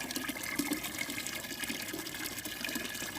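Liquid pours steadily into a water bottle as photosynthetic bacteria solution is added to water, a continuous close gushing splash throughout with no talking.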